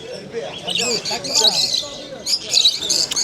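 Canaries and budgies chirp and tweet continuously at an animal market, bright high calls layered close together with people talking underneath throughout.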